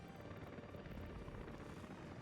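Helicopter rotor drone from the city-building game Workers & Resources: Soviet Republic, a steady dense low thrum that holds evenly throughout.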